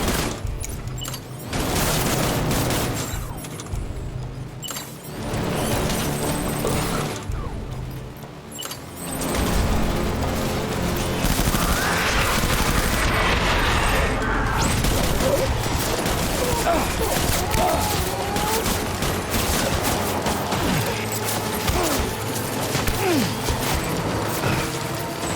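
Assault rifle gunfire in the video game Death Stranding, sustained rattling bursts layered over a dense, busy combat soundscape with someone talking.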